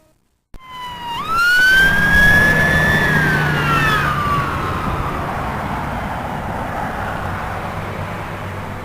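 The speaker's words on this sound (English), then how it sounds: "there's an ambulance in a hurry" A loud ambulance siren wails close by, its pitch sliding down as it speeds past on a Scottish road, with engine and traffic rumble continuing underneath.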